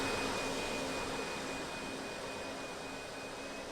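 Simulated F4U-4 Corsair engine in the RealFlight flight simulator video game, a steady whining drone with a faint high tone, staying even and slowly fading slightly, with no talking.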